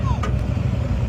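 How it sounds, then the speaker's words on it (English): Small toddler-sized motorcycle engine running steadily in a residential neighborhood, a continuous low buzzing drone throughout with some voice-like sounds over it. "it's a toddler on a motorcycle. On a toddler-sized motorcycle."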